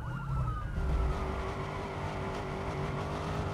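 Police car siren in the video game Watch Dogs, a steady wailing tone sounding continuously over rumbling engine and traffic noise, moderately loud and close, with no voices.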